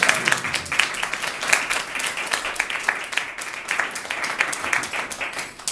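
Circus audience under the big top applauding, a loud, close, sustained burst of many hands clapping with uneven surges throughout.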